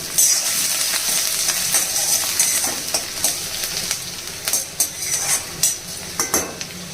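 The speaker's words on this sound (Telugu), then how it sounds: "ఉల్లిపాయలు బాగా మెత్తపడేంత వరకు ఇలా మధ్య మధ్యలో కలుపుతూ వేయించాలి." Onions fry in a pan with a steady sizzle while a spoon stirs them, scraping and clinking against the metal in irregular bursts that grow more distinct toward the end.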